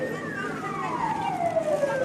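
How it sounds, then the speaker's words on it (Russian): An ambulance siren wails in a long, slowly falling tone across a crowded city park on a hot summer day, mid-distance and steady, with crowd murmur and faint voices around it. "Там еще скорая, что ли."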